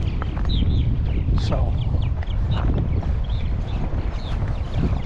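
Strong wind buffets the microphone at Walker County Lake, a loud continuous low rumble and roar throughout, with a brief word from a man over it and faint bird calls in the background.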